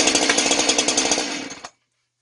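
Gasoline chainsaw engine catching after a recoil-start pull, a loud rapid putter of firing strokes for under two seconds before it abruptly cuts out to silence.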